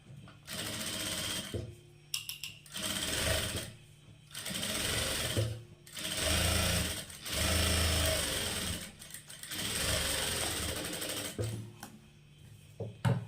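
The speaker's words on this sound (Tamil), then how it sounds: "இப்போ இது அப்படியே வச்சு ஒரு தையல் வந்து போட்டுக்கலாம்" Sewing machine stitching a blouse hem, close rhythmic whirring runs of about a second or two each, separated by short pauses, steady and fairly quiet.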